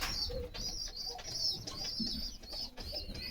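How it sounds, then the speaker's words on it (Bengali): Chila pigeons coo in low murmurs beneath a steady high-pitched background chirring, with a few soft bird calls and no voices. "চিলা কবুতর"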